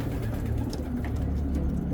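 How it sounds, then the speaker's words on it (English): A reliable racing pigeon, cock number 1610, cooing in a loft: low, repeated throaty coos run through the whole stretch over a steady background hum, with no talking. "He's a very reliable pigeon."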